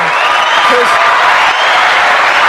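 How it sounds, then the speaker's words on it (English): A large crowd at a live boxing event claps in a loud, continuous round of applause, with a faint voice buried in the noise. "Let me just give another round of applause to Regis."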